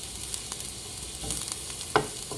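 Garlic frying in a pan makes a soft, steady sizzle with scattered clicks and stirring scrapes, one sharper knock near the end, quiet and without talk.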